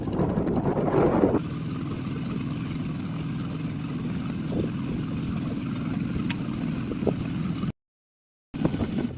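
An outboard boat motor runs steadily with a low droning hum and wind noise, louder briefly at the start, then cuts out to silence for a moment near the end before resuming.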